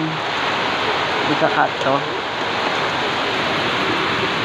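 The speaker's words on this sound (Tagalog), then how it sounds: "So yun, ayan, lakas ng ulan mga quiz." Heavy rain pours down in a steady, loud hiss of broadband noise, with a person speaking briefly over the downpour.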